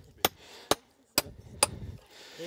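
Four sharp hammer blows ring out at a steady pace on stone being split into slabs for a dry stone wall in the Vaucluse, each strike loud and crisp with a short fading crackle, followed by brief rustling.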